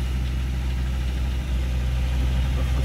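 A Lada Niva engine, just started, runs at a steady idle with a deep, continuous rumble and even vibration, loud and close, with no voices.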